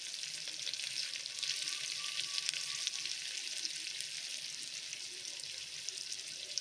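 Chopped onion, crushed garlic and curry leaves sizzle in hot tempering oil for a greens basaru, a steady close crackling hiss that runs throughout with no voices.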